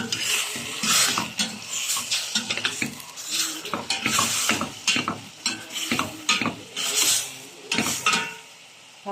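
Hotdogs being stirred in a pan while making sopas: repeated close scraping and clinking strokes of a utensil against the pan, with a faint sizzle running underneath.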